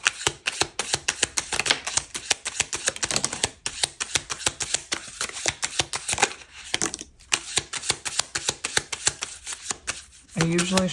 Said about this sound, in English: I usually shuffle once all the way through the deck.